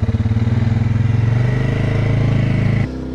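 A 2025 Polaris ATV engine idles and runs steadily nearby after a forest trail ride, a loud, even pulsing drone that drops away abruptly near the end.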